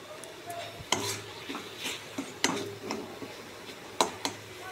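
A spoon stirs sesame seeds, dried mango and sugar as they dry-fry in a pan, giving irregular sharp scrapes and clinks against the metal every second or so, close up over a faint background.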